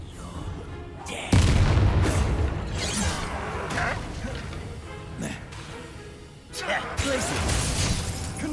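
A Confringo spell blast in Hogwarts Legacy: a loud, sharp burst erupts, followed later by a second blast, amid crackling effects and voices talking.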